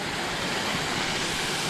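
A river rushes steadily through the Great Smoky Mountains, a dense continuous broadband roar of flowing water close by, with no voices over it.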